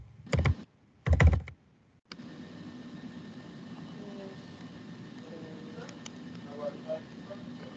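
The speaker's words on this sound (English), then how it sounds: "So I'm just typing this up, Gloria, here." Typing on a computer keyboard during an online Teams meeting: two short bursts of quick clattering keystrokes near the start, followed by a low steady hum with faint background sounds.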